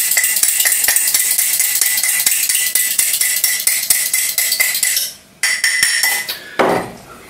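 Rapid, steady clinks of a whisk beating an egg in a bowl for an egg and beer batter, close and fairly loud, with a short break and a couple of louder knocks near the end.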